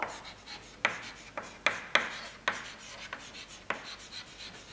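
A pen scratches across paper while writing out the solution to a chemistry calculation, with a series of short, close scraping strokes in an irregular rhythm and no talk.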